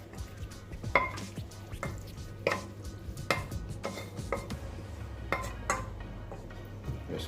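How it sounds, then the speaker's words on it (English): Saltfish is stirred in a pan for a breadfruit shepherd's pie, giving repeated scraping and clinking strokes of a utensil against the pan over a faint sizzle, close and fairly quiet. "we want to go in with our saltfish"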